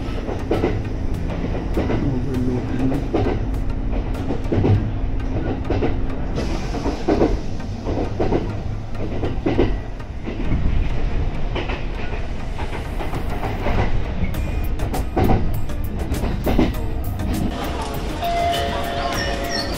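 A train rumbles steadily along the rails with rhythmic clacks and rattling, loud and close throughout, with some voices partly buried underneath.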